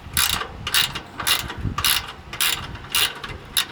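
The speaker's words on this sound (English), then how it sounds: "let me find the right wrench socket combo for that" A socket wrench ratchets on a bolt beneath a 1946 Chevy, with about six crisp, close ratcheting strokes repeating in a regular rhythm.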